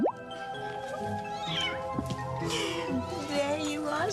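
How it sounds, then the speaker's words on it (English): A black kitten meows repeatedly and plaintively, close and clear, in a series of drawn-out cries over a faint indoor background. "Your very own black kitty cat."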